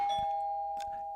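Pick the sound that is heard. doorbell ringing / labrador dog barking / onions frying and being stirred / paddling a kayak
doorbell ringing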